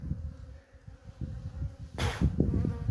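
Honeybees buzz around a queenless hive on a once-overcast day, a low steady drone close by with scattered louder passes and a brief burst of broadband noise partway through.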